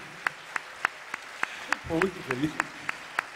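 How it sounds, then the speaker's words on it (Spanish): Steady, evenly spaced claps ring out at a tribute gathering of friends, a slow regular beat of single sharp smacks with a voice speaking briefly in the middle. "vamos a darnos un aplauso para nosotros, que también para vosotros"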